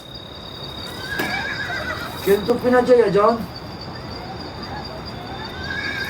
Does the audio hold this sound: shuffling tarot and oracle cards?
no